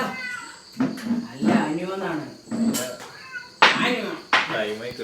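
A cat meows several times in a row, drawn-out, voice-like cries close by with short pauses between them.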